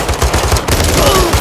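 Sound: gunfire in Call of Duty Modern Warfare 3 video game

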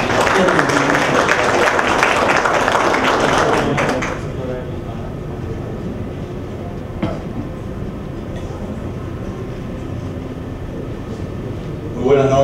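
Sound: audience applause

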